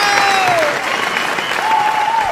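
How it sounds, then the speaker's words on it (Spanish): Steady, loud applause from a live dance-music audience honoring departed musicians, filling the whole moment, with a sustained tone gliding over it. "que se escuche ese aplauso hasta el cielo"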